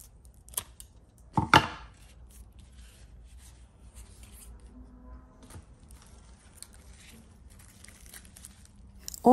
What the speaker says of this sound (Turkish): Böyle bir durumda bütün kökleri keserek orkidenin gövde kısmını iyice